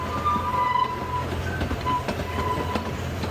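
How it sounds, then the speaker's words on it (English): An amusement park ride train rolls along its track at Pleasure Beach in Blackpool, with steady rumbling, faint wheel squeals and clicking joints, heard at a moderate distance without talk. "There's another train in there."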